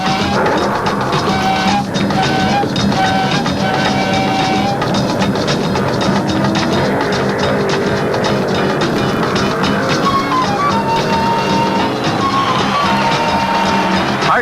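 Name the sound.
drag racing Ford Mustang and Chevy Camaro launching down the strip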